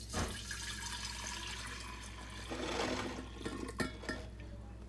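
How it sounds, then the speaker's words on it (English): Elderberry ignatia tea poured into a gallon jar, a quiet continuous liquid stream and splash with faint clinks and a short burst of louder pouring near the end. "I'm gonna pour it into my gallon jar here."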